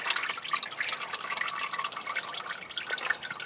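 Motor oil drains from a sixth-generation Nissan Maxima in a steady, splashing trickle with dripping patter, continuous and close, without any talking.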